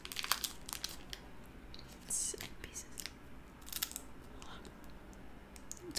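Crinkly plastic wrapper of a crunchy Polish snack being handled up close, with bursts of crackling and rustling, quiet pauses between, and faint soft sounds in the background.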